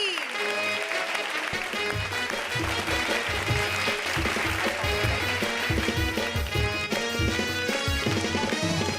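Studio audience at a comedy show applauding for Rajeev Goldie, loud sustained clapping filling the whole stretch, mixed with a bed of music and occasional voices underneath.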